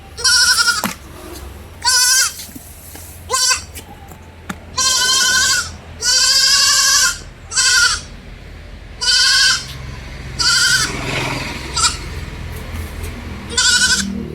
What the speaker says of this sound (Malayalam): നല്ലൊരു ക്രോസിൽ വന്നൊരു ആടിൻ്റെ കുട്ടിയാണ്.